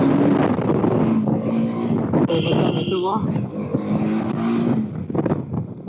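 A TVS Apache motorcycle carrying a passenger, its engine droning steadily under wind rush throughout, with loud excited talk over the ride.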